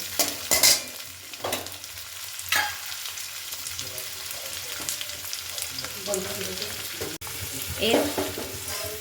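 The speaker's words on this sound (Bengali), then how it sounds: "এবার সেগুলো একসাথে করে একটু ভেজে নেব" Cut carrots, beans and capsicum frying together in a pan for fried rice: continuous sizzling, broken by several sharp spatula scrapes and stirring knocks, close and moderately loud.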